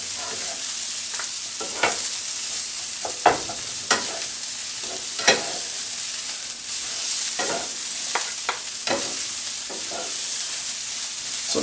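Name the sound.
stirring fried rice in a pan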